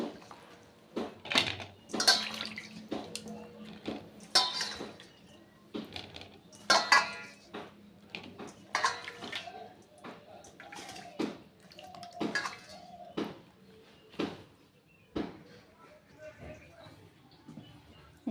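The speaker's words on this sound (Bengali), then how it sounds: "সব উপকরণগুলো ভালো করে ধুয়ে নিচ্ছি" Ingredients including garlic washed in water in a metal bowl, with close clinks and knocks of dishes, splashes and trickling water, and a voice talking at times over the sounds.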